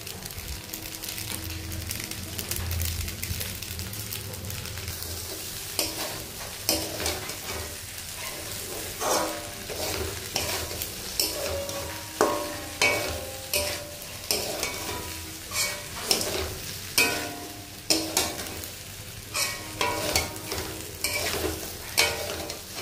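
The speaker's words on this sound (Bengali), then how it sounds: "পাস্তাগুলোকে ভালো করে মিশিয়ে নিচ্ছি। ভেজে রাখা সবজিগুলো দিয়ে দিচ্ছি।" Pasta is stirred with fried vegetables in a pan, with a soft sizzle under a steady run of rhythmic scraping strokes that become regular and distinct toward the end.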